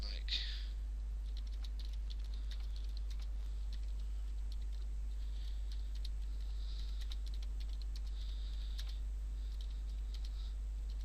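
Keystrokes on a computer keyboard, a steady patter of light clicks running through the whole stretch at moderate distance over a constant low hum, with no talking.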